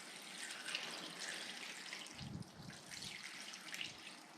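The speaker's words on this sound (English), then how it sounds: "pour the water in." Tap water poured from half-gallon glass canning jars into a red cabbage dye bath, a steady gurgling pour with a brief low glug midway, close and moderately quiet.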